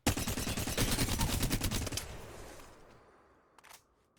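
A Flatline rifle in the game Apex Legends fires a rapid automatic burst of about two seconds, loud and close, then its echo tails off and a couple of faint clicks follow.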